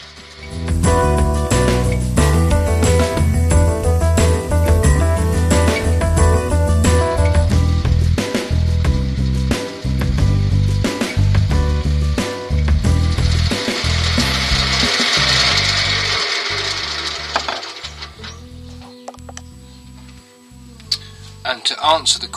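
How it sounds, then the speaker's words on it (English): A spindle gouge cuts a spinning top on a wood lathe, giving a loud, steady scraping and whirring that runs almost continuously. Near the end the lathe slows and the sound breaks into choppier bursts. "Spindle gouge in hand. Slow the lathe down a little bit and let's see."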